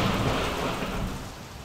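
Heavy rain pours steadily while thunder rumbles low underneath, a loud, dense wash of sound with no speech.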